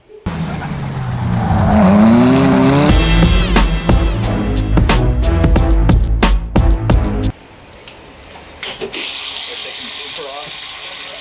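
A Honda K24 engine swapped into a Mazda RX8 time attack car, on an Adaptronic ECU with a K20 oil pump, cranks and fires into a loud, rough idle with sharp revs, then cuts off and a steady hiss follows.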